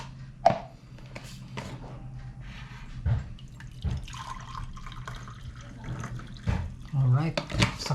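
Water for coffee is poured in a few intermittent splashes and trickles, close by, with quiet gaps between them and faint background noise.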